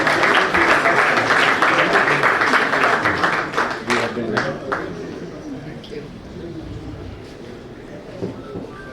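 Audience applause at a Bar Council of Delhi felicitation function in Silver Oak Hall, a dense, steady clapping that fills the room for about four seconds and then thins out to scattered claps under murmuring voices.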